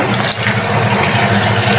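Running tap water splashing into a container of fish set to soak, a loud, close, continuous gush with no voices.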